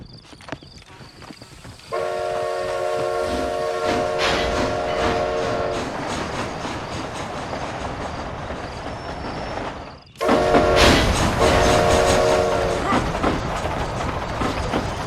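A train rolls along the rails in the video game Red Dead Redemption Undead Nightmare, a dense continuous rumble and clatter with a horn sounding twice, and the noise swelling after a brief dip.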